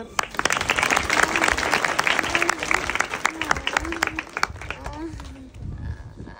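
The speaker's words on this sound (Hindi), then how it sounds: "ताली तो बचा दो भाई" An audience claps in an uneven, lively burst, individual hand claps standing out near and loud, while voices speak over the clapping.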